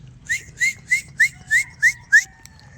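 Someone whistles an imitation of a martin's call, seven short rising chirps in an even rhythm, close and clear over a quiet background.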